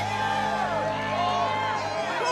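An animated concert crowd cheers and whoops continuously in front of a stage, a dense sustained roar mixed with faint voices and music.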